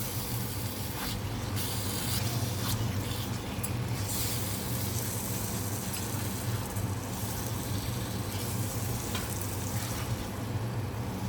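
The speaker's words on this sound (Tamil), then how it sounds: "ஸோ இது எல்லாத்துக்கூடையும் மிக்ஸ் பண்ணி விட்டுடுங்க." Punjabi kadai chicken sizzles in a pan while it is stirred, a continuous close frying hiss with scraping stir strokes that come and go. No one speaks.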